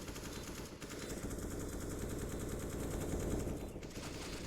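Rapid automatic AK rifle fire rattles on in a dense, continuous stream through an esports shooter match at an ESL Australia & NZ championship, loud and sustained with barely a pause.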